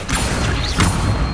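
The Accio summoning charm from the Hogwarts Legacy video game goes off in a quick, loud magical whoosh with a mechanical rattle and a thump, all within a second or so.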